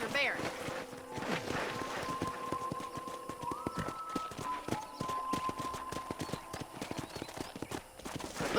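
Rapid clip-clop of horse hooves trotting steadily in the video game Red Dead Redemption, with a whinny early on and a faint tonal hum beneath.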